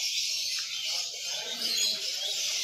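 Yellow-collared lovebirds at a zoo park giving shrill, continuous high chattering calls, fairly close and dense, with no talk over them.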